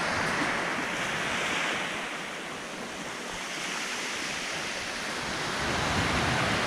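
Ocean surf washes steadily onto a beach at Tinker's Cove on Santa Cruz Island, a broad, continuous roar of breaking waves swelling and easing with no voices.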